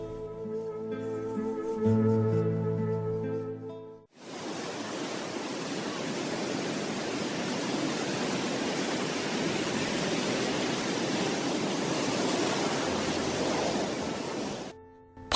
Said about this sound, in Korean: 내 귀는 소라껍질 파도 소리가 하 그립다